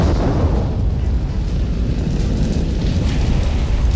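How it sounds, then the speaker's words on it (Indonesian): A massive bomb blast in a film, levelling an entire building, fills the scene as a dense, loud, sustained roar of rumbling debris that stays heavy for several seconds, with no voices over it. "Kejadian itu pula bersamaan dengan ledakan bom dahsyat yang langsung meluluhlantahkan seluruh"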